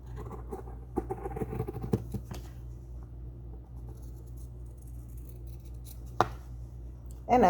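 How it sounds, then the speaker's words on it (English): Scissors cut fabric along a sun bonnet pattern, a run of soft, close crunching snips early on, then quieter handling with an occasional isolated click. "And I cut as close to the pattern as I can."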